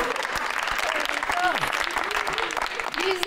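Studio audience applause at a late-night television show fills the room as a steady, dense wash of clapping, with a voice faintly audible underneath.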